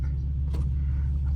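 An Infiniti Q50 car driving down a street, a steady low engine and road rumble heard from inside the cabin, brief and continuous.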